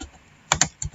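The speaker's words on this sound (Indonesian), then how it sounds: "Selanjutnya, ketikkan perintah sudo apt" A terminal command typed on a computer keyboard: a few sharp, close key clicks, two quick taps followed by a softer third press, within about a second.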